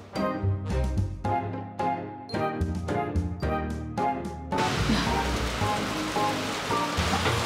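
Heavy rain pours down in a sudden downpour, a loud, steady, dense hiss that starts abruptly halfway through, following rhythmic musical beats.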